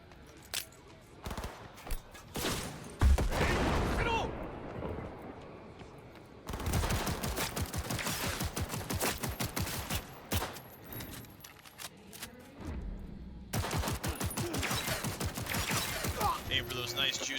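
Rapid video game gunfire in bursts, dense automatic volleys filling most of the stretch with brief lulls between, loud and close, with voices talking over parts of it.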